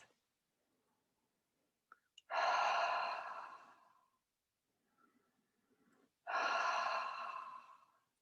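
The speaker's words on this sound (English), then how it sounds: "we're going to begin our breath pattern now of breathing in through the nose and out through the mouth" Two slow guided breaths during a breathwork session, each a soft inhale followed by a long, airy exhale through the mouth that swells and fades, with quiet pauses between.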